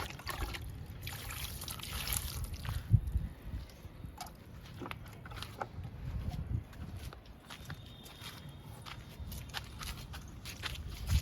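Water trickles faintly onto rain lily plants in a garden, a soft, uneven dribble with scattered light taps and shuffling steps over quiet background noise.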